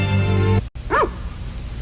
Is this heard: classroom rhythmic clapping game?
no